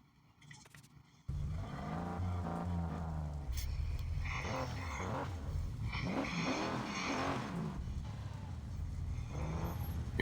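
Car drifting in the mobile racing game Need for Speed No Limits, loud sustained engine roar rising and falling in pitch with tire screech, beginning abruptly after a brief quiet intro and continuing steadily to the end.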